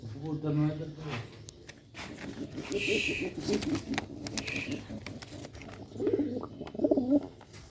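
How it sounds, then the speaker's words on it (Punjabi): Soft coos from Sialkoti black-faced pigeons come in short rolling bursts close by, mixed with faint rustling and a few quiet clicks. "ਇਹ ਕਬੂਤਰ ਹੈ ਮਾਸ਼ਾਅੱਲਾ"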